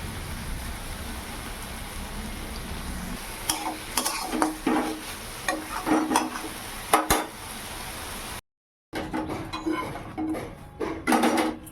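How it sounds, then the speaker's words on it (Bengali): Pumpkin frying in a pan under a steady sizzle, with clinks and scrapes from stirring coming in bursts and a short drop to silence partway through. "আর এই যে দেখো কুমড়ো ভাজা চাপালাম"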